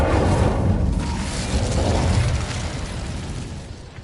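Incendio fire spell cast in Hogwarts Legacy, a loud roaring burst of flame that whooshes out and slowly fades over a few seconds, no talk.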